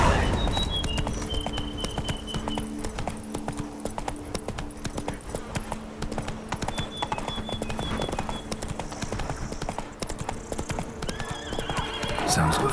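Roach, Geralt's horse in The Witcher 3: Wild Hunt, galloping with rapid rhythmic hoofbeats over a steady ground rumble, with brief whinnies and a faint voice at points, close and continuous.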